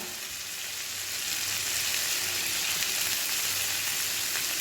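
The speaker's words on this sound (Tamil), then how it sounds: "இப்போ இதையும் நல்லா வதக்குவோம்." Chilli powder frying in a pan with oil while making chilli chicken: a steady, close hiss and sizzle that swells slightly after the first second and stays constant, with no voices.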